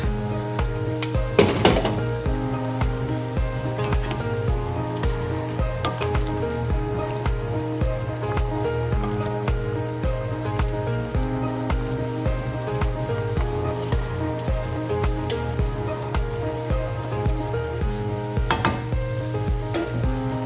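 Chicken adobo fries in a pan with a continuous dense sizzle, a steady low hum beneath and occasional scraping stirs poking through, close and alone without talk.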